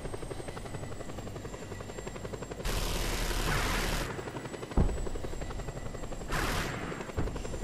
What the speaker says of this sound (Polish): Nie będą nas gonić co chwilę tymi helikopterami.